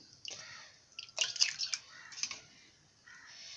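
An ice cube tray is swished and rinsed in a bowl holding a little water in a home kitchen, giving close, irregular splashes and drips that peak briefly and then settle into quieter sloshing.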